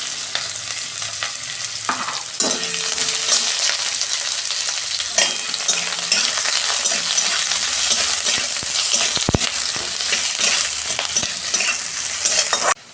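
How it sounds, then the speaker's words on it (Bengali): Two onions and four or five garlic cloves fry in hot oil for a bitter gourd mash, with loud continuous sizzling and repeated spatula scrapes and knocks against the pan. "তেলে 2টো পেঁয়াজ আর রসুন দিয়ে দিচ্ছি"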